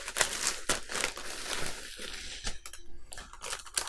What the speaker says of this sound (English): we have sprues all wrapped in bubble wrap